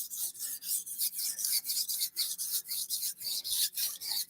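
A knife blade is drawn over a sharpening stone in steady rhythmic rasping strokes, close and moderately loud, with no talking.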